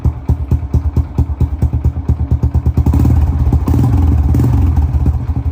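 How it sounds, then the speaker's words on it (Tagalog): An old Honda XRM motorcycle engine starts on one kick or click, its firm thumping pulses quickly settling into a steady, loud running idle close at hand. "one click lang, nag-i-start na rin agad."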